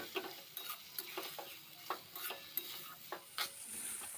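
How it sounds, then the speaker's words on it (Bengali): Potatoes and spice masala being stirred and fried with a splash of water for a soybean curry, soft sizzle under a series of quick spoon scrapes and taps against the pan, fairly quiet and near. "এখন সামান্য একটু জল দিয়ে মশলাটা আবারও ভালো করে আলুর সাথে কষিয়ে নেব।"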